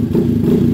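A Classic 250 motorcycle with a freshly tuned carburetor idles and revs steadily at close range. Its engine rumbles low, loud and continuous, with no gaps and no voices.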